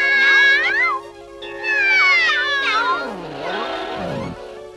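Loud, close cat meows rise and fall in three drawn-out, wavering calls in quick succession, sounding as if a voice is imitating them within a Russian children's poem, with no plain speech between the calls.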